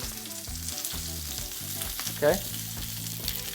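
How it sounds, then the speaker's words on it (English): Potatoes sizzle steadily in olive oil in a pan, a continuous close crackling hiss of frying; a voice says a single brief word over it. "You can hear that sizzle,"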